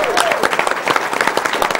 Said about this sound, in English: let's get some applause and noise going